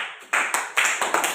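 A group of children claps in a classroom, a quick run of about five sharp, close claps in an even rhythm over little more than a second.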